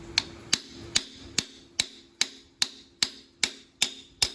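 Ten sharp metallic hammer strikes seat an injector cup in a 7.3 diesel engine, landing at a steady, even pace, each ringing briefly before the next blow.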